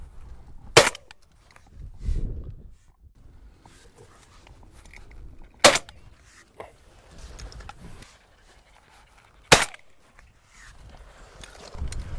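Shotgun shots at pigeons during a pigeon shoot: three sharp, loud blasts spaced several seconds apart outdoors, with faint rustling and movement in between.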